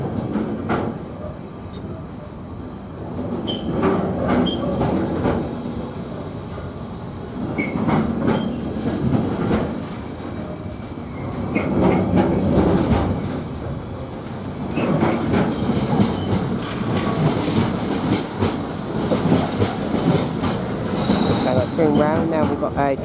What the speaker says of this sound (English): it's a GBRf locomotive, class 16